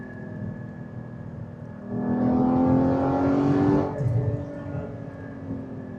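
A 2016 Porsche 981 GT4 sports car on a drive: the engine hums, then surges into a loud rising rev for about two seconds and settles back to a steady cruise.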